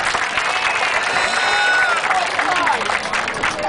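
A crowd applauds break dancers performing at Baltimore's Inner Harbor during the Star-Spangled Sailabration 2012, with steady dense clapping and some cheering throughout, a few voices and whistles rising above it.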